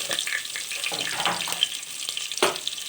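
Green chillies frying in oil in a pan for chicken pulao, a close, steady crackling sizzle with small sharp pops scattered across it.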